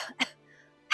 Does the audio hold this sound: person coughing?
yes